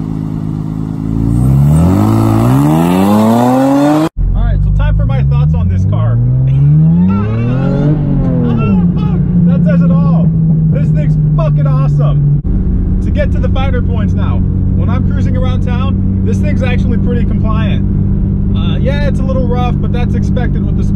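A Toyota MR2 with a swapped J32A2 V6 and an M90 supercharger pulls hard through the gears, its engine note climbing and dropping with loud, sustained revving and shift breaks from inside the car.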